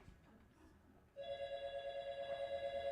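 A telephone rings after a short quiet stretch, its steady electronic ringing tone pulsing in a regular repeating rhythm, loud and close, with no talk over it.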